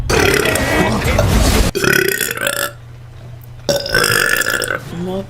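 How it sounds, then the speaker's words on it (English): A woman lets out a series of deep, loud, drawn-out burps at close range, three long bursts separated by a short quiet gap. "More burps."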